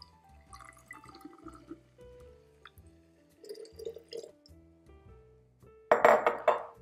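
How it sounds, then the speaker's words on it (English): Four cups of water poured into a container for cold brew coffee, with soft trickles and clinks of glass and utensils, ending in a loud splashing gush of water near the close. "So we're gonna pour our 4 cups of water in there."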